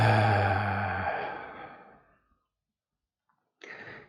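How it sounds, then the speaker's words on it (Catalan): An audible voiced exhale, a breathy sigh that trails off slowly into silence, followed by a brief fainter breath near the end, close and alone, during a guided breathing exercise. "Fem una respiració vocal."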